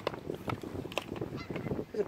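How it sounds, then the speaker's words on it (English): Several geese honk repeatedly in an irregular cluster at moderate distance, with a voice speaking briefly among the calls. "there's a bunch of geese."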